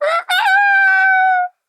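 A rooster crows on a farm near a horse barn, a single long, clear cock-a-doodle-doo that starts with a short break and then holds a drawn-out note before ending cleanly in silence.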